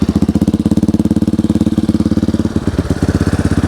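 A small engine, just started after fiddling with the choke, runs with a steady, close, loud chugging pulse. The firing rhythm stumbles briefly partway through, then settles back into its even beat.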